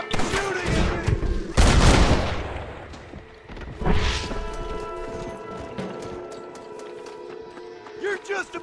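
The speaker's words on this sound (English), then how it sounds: "Open fire! Stop shooting at me!" Gunfire rings out in Red Dead Redemption, with a loud burst of overlapping shots followed by a second crack and scattered later reports, mixed with shouting voices and a ringing musical tone.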